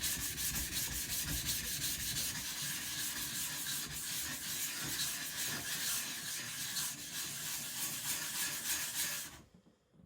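A 52100 steel Chinese cleaver is worked on the soft side of an asagi natural sharpening stone with slurry, giving a steady, close, gritty rubbing and scraping in quick even strokes for about nine seconds, then stopping.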